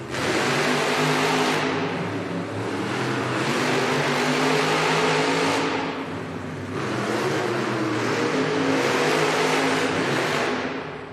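Monster trucks Dragon and Megalodon race in an indoor arena, their engines roaring loudly and continuously in swelling, revving waves that echo through the space, with no voices over them.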